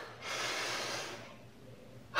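One heavy breath is drawn in and pushed out right after a kettlebell set, close and breathy, then a quieter pause and the start of another exhale.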